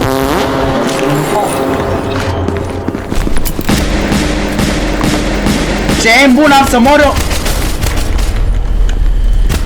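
Massive explosions and bursts of gunfire in a video game, loud and dense over a continuous rumble, with someone talking over the action.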